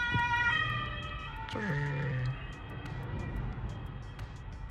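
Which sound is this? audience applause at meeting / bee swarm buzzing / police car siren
police car siren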